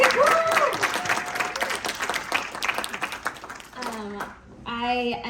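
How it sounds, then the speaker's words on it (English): Audience applause at a DNC 2023 Winter Meeting AAPI Caucus session, a dense crowd clapping loudly for a few seconds, with a voice speaking over it near the end. "Can we give one more round of applause for Eric?"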